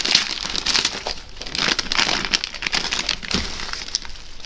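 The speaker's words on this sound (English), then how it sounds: "So, let's open the bag." A plastic bag from an American M9 respirator kit crinkles and rustles in short bursts as it is opened by hand, close and fairly quiet, with no talking.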